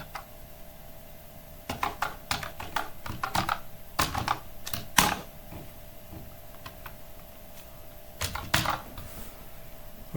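Quick bursts of clicking keystrokes on a computer keyboard, close and crisp, come in irregular clusters separated by short pauses in a quiet room.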